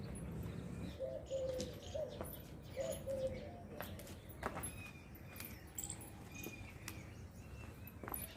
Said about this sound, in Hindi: देखिए चिड़ियाओं की जो है कितनी अच्छी आवाज़ लग रही है